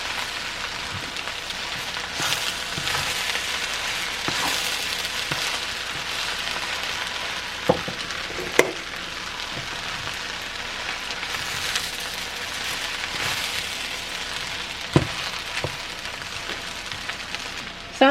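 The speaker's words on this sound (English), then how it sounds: "I'm going to go back in with my shrimp and my eggs. And we're going to mix that in." Shrimp and eggs stir-frying into fried rice in a hot pan, a steady sizzle with occasional scraping clicks and taps of the utensil.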